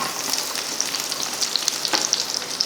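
Chillies frying in hot oil in a pan for a chutney, a close, steady crackling sizzle with dense popping bursts throughout, no voices.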